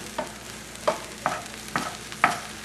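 A spoon stirs scrambled eggs with caramelized onions, mushroom and garlic in a hot pan: five separate scraping strokes, spaced roughly half a second apart, over a low steady sizzle, with no talking.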